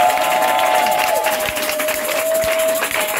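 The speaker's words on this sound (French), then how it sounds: "Est-ce que tu peux donner le temps d'acclamation à ton Dieu ce matin?" A church congregation applauds and cheers in acclamation during a morning worship service, a busy crowd of clapping under a sustained tone with occasional thumps.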